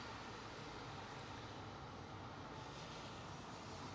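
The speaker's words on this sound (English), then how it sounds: "Alright, the 777 with a delay, taking off." Boeing 777 airliner taking off at Heathrow, a constant heavy broadband engine rumble with no clear rise or fall, continuous and unbroken.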